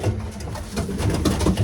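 Racing pigeon cooing inside a loft, soft low repeated coos close by, over a steady background hum.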